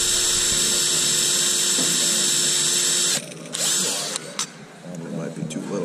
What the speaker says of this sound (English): he should just be able to drill out just the head part, and then the rivet will fall apart